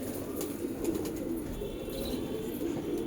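Pigeons coo steadily in a loft kept for a hobbyist's bloodline stock in Allahabad, a low continuous murmur of several birds close by, with no talk over it.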